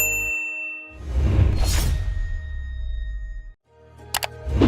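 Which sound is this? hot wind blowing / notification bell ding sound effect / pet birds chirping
notification bell ding sound effect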